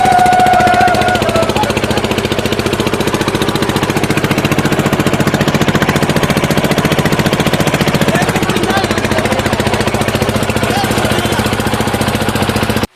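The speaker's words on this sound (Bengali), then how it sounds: "আমরা একটি ট্রলার ভাড়া করে চললাম" A rented trawler boat on a river, leaving Madhusudanhat ghat in Lakshmipur, runs its engine with a loud, rapid, steady diesel chugging close by, unbroken for the whole stretch before cutting off at the end.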